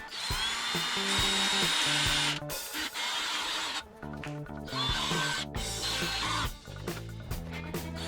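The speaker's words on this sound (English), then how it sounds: "Now step up your drill bit size a little bit and remount the holes again." A power drill with a stepped-up bit enlarges holes in an Oldsmobile small-block engine block. A loud, steady whine is broken by brief pauses and shifts in pitch as the bit bites into the metal.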